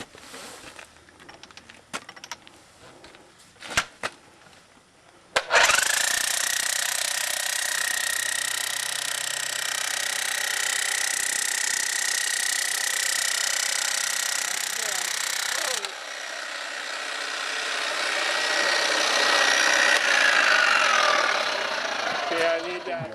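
After a few clanks and brief movement, a loud hammer drill starts abruptly and pounds continuously, driving a ground rod for a radio tower, briefly dropping in intensity before surging again.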